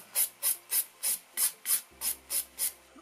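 Nail file rasping across an acrylic nail in ten quick, evenly spaced strokes, close and crisp, each a short scratchy burst with brief quiet between.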